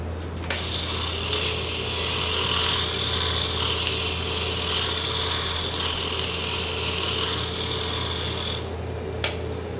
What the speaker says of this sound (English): sand off the edge of the box so it's smooth and square